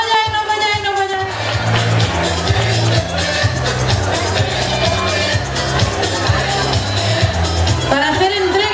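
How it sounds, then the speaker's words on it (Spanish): Crowd noise at a children's carnival in Nerja, a loud, continuous wash of cheering and babble that swells after the first second, with a steady rhythmic music beat underneath throughout. "Fortísimo aplauso para ello."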